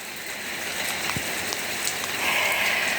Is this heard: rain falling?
yes